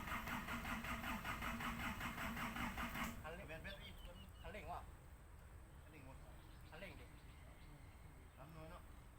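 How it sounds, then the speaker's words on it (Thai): A Hitachi EX120 long-boom excavator diesel engine cranking on a first start attempt, a loud steady churning drone for about three seconds that then cuts out, leaving quieter background noise with scattered voices talking. "เตรียมตัวสตาร์ทเครื่องยนต์ครับ"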